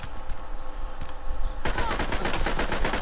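Rapid automatic gunfire from a dinosaur-hunting video game breaks out abruptly partway through, a dense, loud burst of repeated shots after a few scattered earlier pops over background game noise.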